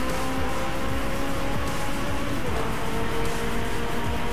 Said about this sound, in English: In sport mode with all the exhaust burbling.